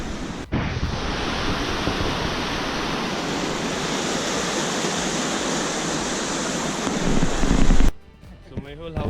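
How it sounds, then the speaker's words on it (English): The Markha river in Ladakh roars steadily nearby, a loud, continuous broadband rush of sediment-laden water that cuts off abruptly near the end. "You can hear the roar of the river flowing nearby."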